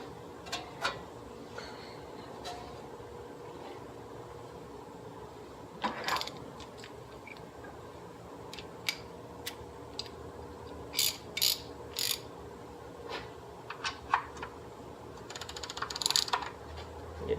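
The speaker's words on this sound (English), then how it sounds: "what I'm going to do right now is put the oil plug back in it" Oil drain plug on a 2008 Toyota FJ Cruiser being tightened with a ratchet, producing quiet, scattered clicking bursts and short metallic rattles close by over a faint steady background.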